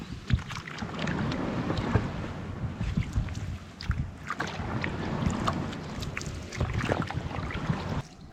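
A small rowing boat moves across open water on a carp-fishing lake, with steady splashing and lapping against the hull and gusts of wind buffeting the microphone throughout.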